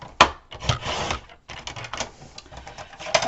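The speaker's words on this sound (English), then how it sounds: "let's go ahead and cut that 4 3/8 wide" Paper for an accordion album being cut to a set width on a cutter, a sharp close slice followed by ongoing rubbing and scraping of the blade and paper, with a few more crisp cuts near the end.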